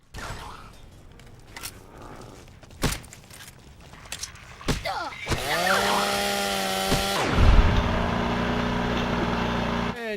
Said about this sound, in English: And chainsaw takes him out.